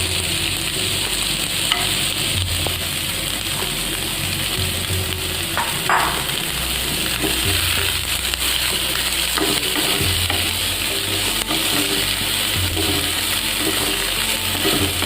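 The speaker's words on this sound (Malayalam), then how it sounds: "കുറച്ച് സബോളയും ഒരു 3-4 പച്ചമുളകും കൂടി ഒന്ന് വഴറ്റിയെടുക്കുകയാണ്." Onions and three or four green chillies sautéing in ghee for a stuffed whole chicken fry filling, with a steady loud sizzle and occasional stirring scrapes and clinks throughout, no talking.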